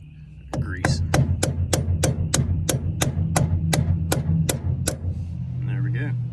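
A grease cap is tapped onto a trailer wheel hub with about fifteen quick, evenly spaced metallic hammer blows, loud and close, stopping abruptly before a low background hum and a faint voice.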